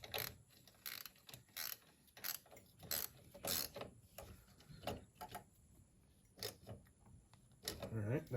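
Ratcheting clicks from a tool tightening a highway peg clamp on a 2023 Kawasaki KLR 650, coming in short irregular bursts of fast clicks, fairly quiet and close.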